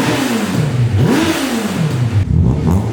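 A Suzuki Hayabusa motorcycle engine fitted into a Nissan Micra revs hard, its loud pitch sweeping up and down in several swells over a steady roar, with no voices.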